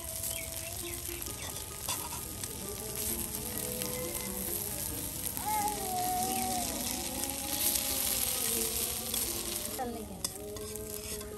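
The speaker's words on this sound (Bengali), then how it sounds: "দাদি কিন্তু বড়াগুলো একদম মচমচে ভাজার জন্য বারবার তেল দিতেছে" Lentil fritters (khesari dal bora) deep-fry in hot oil for a village iftar, a steady crackling sizzle with stirring and scraping noises up close, and no talk.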